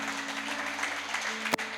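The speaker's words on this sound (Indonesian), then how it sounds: "Ayo tepuk tangan yuk buat Tuhan." A church congregation applauds during a Sunday service, dense steady clapping throughout from a large crowd in a reverberant hall, with one sharp knock near the end.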